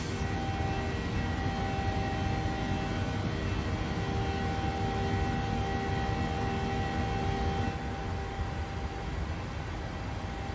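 A Ryanair Boeing 737-800 in a flight simulator game gives a steady, low, continuous engine roar and rushing drone with faint tonal hums throughout, with no talk.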